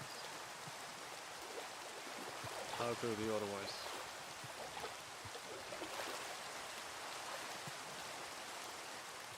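Steady rain hisses softly in a Minecraft survival world, a faint continuous patter with a brief tonal game sound partway through, while someone talks quietly over it.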